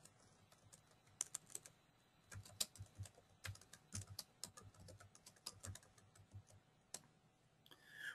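Fingers type a quick note on a computer keyboard, a faint, close run of irregular clicky keystrokes with brief pauses, heard alone.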